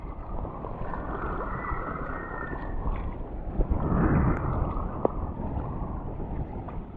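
A small boat is paddled at sea with its engine off in strong wind. Steady wind rush and water noise carry throughout, with a couple of brief splashy paddle strokes near the end and no voices.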